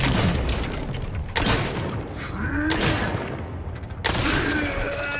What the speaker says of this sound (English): Headshots with a big revolver.